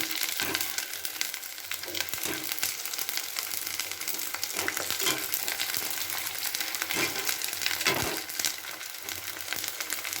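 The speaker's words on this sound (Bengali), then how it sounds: "কুচো পাপড়গুলো ছিল ওগুলোকে এবার ভেজে নিচ্ছি খুব ভালো করে" Papad made from rice starch fries in hot oil with a continuous crackling sizzle, broken by brief louder pops and stirring scrapes, moderately close and without speech.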